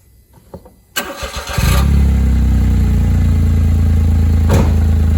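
A Smart Fortwo 451 fitted with a DIY dual exhaust cranks briefly, then catches and settles into a loud, steady, throaty idle held close by.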